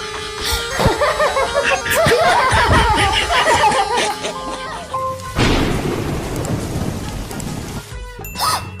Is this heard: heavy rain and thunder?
yes